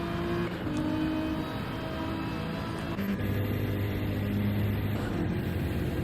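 Race cars at the Bathurst 12 Hour roar steadily along the straight, a dense layered engine drone held at constant loud level with no talk over it.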